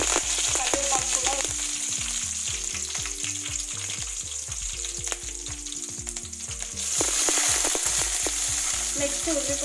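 Curry leaves crackle and sizzle in hot oil for a bitter gourd fry, a steady loud frying hiss with a rhythmic knocking underneath.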